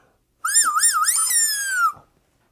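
A novelty joke finger gives a single clear, close whistle lasting about one and a half seconds. It opens with a warbling, wavering pitch, then settles into a steady tone that slides slightly downward before stopping abruptly.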